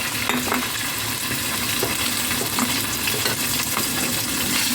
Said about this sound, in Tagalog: Ayan, gisahin lang.